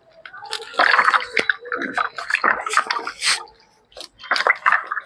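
Water splashes and squishes as peeled papaya is rubbed and washed by hand, with intermittent sloshing and dripping bursts separated by short quiet gaps, close and moderately loud.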